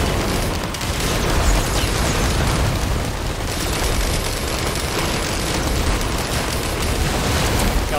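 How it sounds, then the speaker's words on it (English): Explosion in the video game Risk of Rain 2, a loud, dense, sustained booming roar with crackling bursts that fills the whole stretch without talk. "Now that's quite an explosion."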